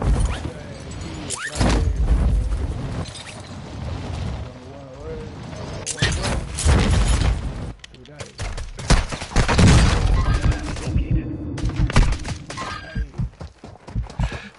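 Submachine gun fire in a tactical shooter game, sharp bursts of rapid shots scattered across the clip, mixed with thuds and footsteps while voices talk over the action.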